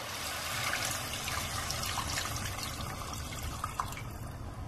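Water pours steadily into a pan of mutton curry with softened tomatoes, a continuous splashing, trickling rush that stays close and fairly loud for several seconds, with no voices.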